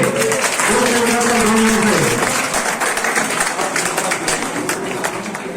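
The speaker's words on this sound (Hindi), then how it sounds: "एक बार जोरदार तालियों से" An audience claps loudly and steadily at a farewell ceremony, the dense applause holding throughout while a musical tone plays briefly underneath early on.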